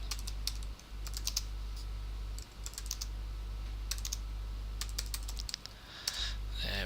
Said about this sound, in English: we type the text we want to appear